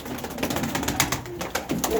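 Domestic pigeons coo softly and repeatedly, near the microphone, in short rhythmic bursts over a low background.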